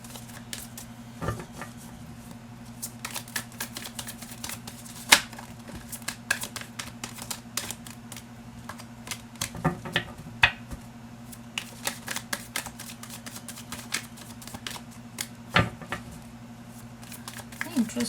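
Tarot cards are shuffled in dense, irregular bursts of soft riffling and slapping, close and fairly quiet, with a low steady hum underneath.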